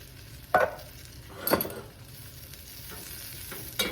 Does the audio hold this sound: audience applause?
no